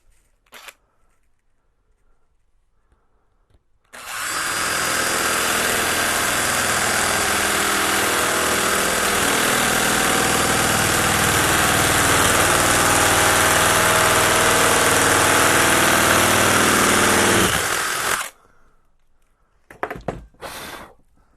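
A drill bit bores steadily through material while installing a 123BMS on Winston LiFePO4 battery cells, one loud continuous whine lasting about fourteen seconds, with brief clicks and handling noises before and after.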